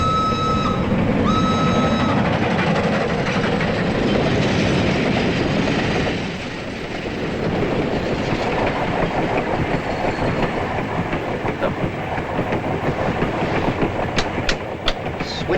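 A European passenger train runs steadily on its rails in a 1952 film, with a loud continuous rumble, rhythmic clickety-clack of wheels over joints and brief squeals and ticks, heard from inside the carriage.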